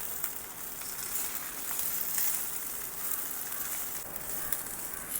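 Cumin, coriander, curry leaves and garlic sautéing in a pan give a continuous soft hiss and light crackle, fairly even throughout, with no voices.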